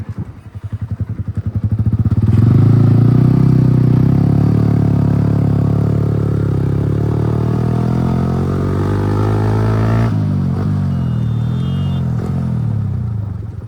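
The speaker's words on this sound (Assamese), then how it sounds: "বাইকটো ঘূৰাই দিওঁ অকণমান" A Yamaha R15 sport motorcycle with a butterfly handlebar idles and is revved to a strong, steady engine drone close by, holding a sustained note for several seconds before dropping in pitch and easing off.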